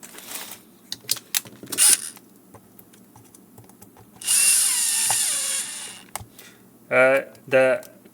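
An electric screwdriver drives screws back into a Garmin or TomTom GPS unit, two short whirring bursts, one long, amid small clicks and handling taps.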